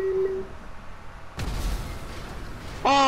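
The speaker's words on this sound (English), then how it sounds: "Who knew adding fire to an engine would cause explosion?" In-game explosion after fire is added to an engine: a sudden loud boom cuts in partway through and rumbles on, with a brief electronic tone before it and a chiming game sound at the end.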